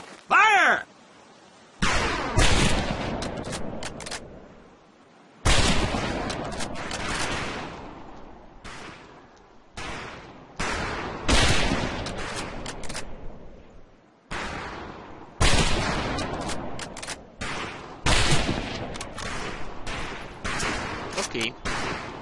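Rifle fire on a firing range in the video game Medal of Honor Pacific Assault: a rapid run of loud, close shots and bursts in clusters, separated by brief pauses, with voices talking in places.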